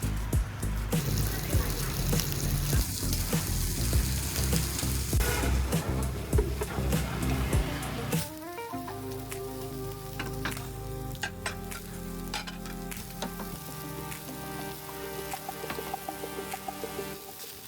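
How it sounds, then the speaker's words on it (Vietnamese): Banh xeo batter, shrimp and squid sizzle in an oiled cast-iron mould at a Da Lat stall, a steady crackling fry that surges with a loud hiss when more batter hits the hot metal, close and without talk. "Tiếng xèo xèo nghe rất vui tai."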